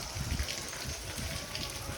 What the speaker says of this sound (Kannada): ಕ್ಯಾಮ್ರ ಲೈಟ್ ಮನೆಗೆ ಮಳೆ ಬರ್ಲತ್ತ ನೋಡ್ರಿ